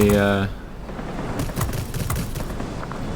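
Rapid aircraft cannon and machine-gun fire in World of Warplanes during a chase of an XF-90 jet, a steady rattling stream of shots under engine roar, following a brief electronic tone at the start.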